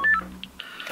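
Telephone call tones, a short burst of electronic dialing beeps: one steady tone followed by several short, faint pips, with no voices.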